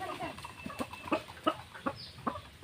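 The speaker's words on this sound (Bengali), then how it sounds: "ডাউক পাখি" A pet white-breasted waterhen (dahuk) at home calls in short, repeated clucking notes, about five or six evenly spaced bursts over a couple of seconds, close and distinct above faint room noise.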